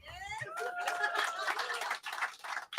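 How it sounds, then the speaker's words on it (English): Audience clapping at an author event, a short burst of scattered applause mixed with voices and light laughter, fairly steady over the whole moment. "we clap for that"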